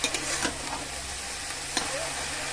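Water spinach greens with turmeric stir-fry in a pan, giving a steady close sizzle broken by a couple of quick scraping stirs.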